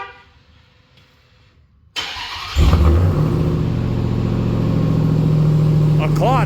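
A car engine cranks and starts in a garage on a hot day of about 90 to 100 degrees. Near silence gives way to a loud, steady idle that runs until the end, with some brief higher tones over it.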